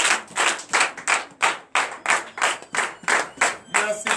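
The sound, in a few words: church congregation clapping in acclamation to Jesus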